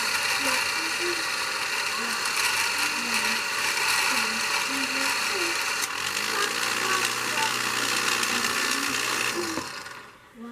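A side winder motor hums continuously as it winds bobbin thread, a steady whirring that runs for several seconds before cutting off near the end.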